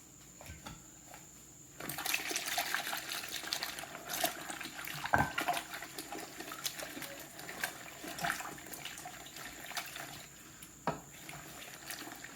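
Felted wool knitting is worked by hand in a basin of hot water with olive oil soap, giving a continuous wet sloshing and squelching with irregular splashes, fairly close and moderately quiet.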